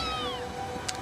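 A single cat gives one clear, drawn-out meow that falls in pitch, close and fairly loud, followed by a brief soft rustle.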